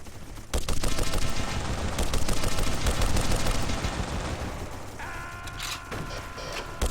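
Dense gunfire in the video game Darkest of Days, a rapid, continuous barrage of shots and volleys that stays loud and close for several seconds before easing into a lighter mechanical clatter.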